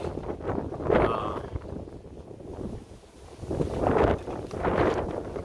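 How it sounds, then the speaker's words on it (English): Strong outdoor wind buffets the microphone, producing a rough, rumbling roar that swells and fades in gusts and stays loud and close throughout. "Sorry about this damn wind."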